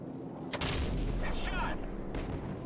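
Gunfire on targets in Call of Duty 4: Modern Warfare, a few heavy booming shots and blasts close up over a constant low battle rumble, with faint game voices mixed in.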